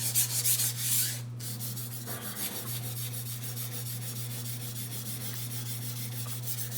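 A knife blade is drawn steadily across a sharpening surface, giving a continuous close, even rasping scrape that runs with no pauses after a brief louder start.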